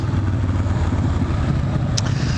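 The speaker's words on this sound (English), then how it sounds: "we are on the Harley. It is running great." A Harley-Davidson Fat Boy motorcycle engine rumbles loud and steady out on the street, a continuous low throb with no talking over it.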